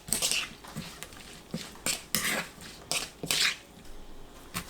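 Cucumber, chili pepper, onion and green onion tossed by hand in a bowl with minced garlic, salt, sugar, apple vinegar and soup soy sauce for a chilled cucumber soup, giving close, irregular wet squishing and clinking bursts with no talking.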